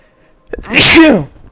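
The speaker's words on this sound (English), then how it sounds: "sorry about that, I sneezed" A single loud, close sneeze bursting out of near silence, with a short intake before the explosive release.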